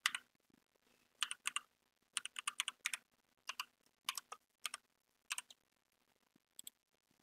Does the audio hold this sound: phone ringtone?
no